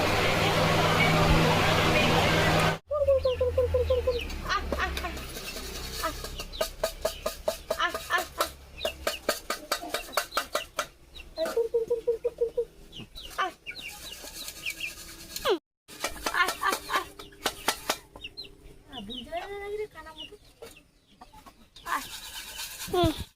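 Several chickens cluck and squawk close by on a pond bank in the Sundarbans, with faint background voices and a brief rustling noise at the start.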